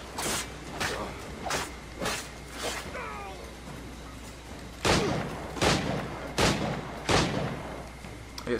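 Repeated pistol gunshots from Assassin's Creed IV Black Flag gameplay, eight broadband cracks: four evenly spaced in the first half, a pause, then four louder shots in a steady rhythm over low in-game ambience.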